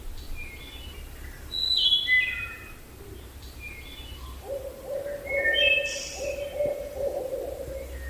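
A barred owl hoots distantly in rhythmic phrases in Savage River State Forest, with other birds chirping and tweeting faintly in the background of a quiet outdoor scene.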